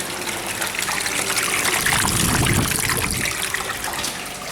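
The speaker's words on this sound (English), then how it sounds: "then they shut the pump off and finish draining" Water drains from a tank after the wash pump shuts off, a continuous close rushing and trickling flow that swells slightly midway and stays steady throughout.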